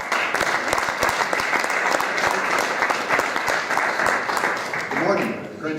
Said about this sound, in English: So let's give a big round of applause to Representative Jeff Stone.